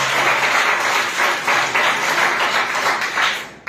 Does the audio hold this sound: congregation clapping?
yes